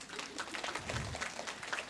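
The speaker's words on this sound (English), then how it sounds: "And our sister, the first sister just now, give her a round of applause." Audience round of applause at a Q&A session, a steady, moderately distant patter of many hands clapping with a low voice briefly underneath.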